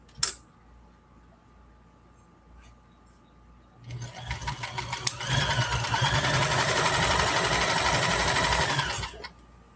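A sewing machine stitching a test piece of fabric while making scrubs: after a quiet start, the motor whirs up and runs steadily and close for about five seconds, then stops.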